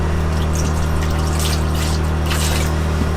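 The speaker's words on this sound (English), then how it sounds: "We'll just dump some of that in there." Liquid pours and gurgles steadily down the drain of an Airstream Sport travel trailer while it is being winterized, a loud continuous rushing splash with a low hum underneath.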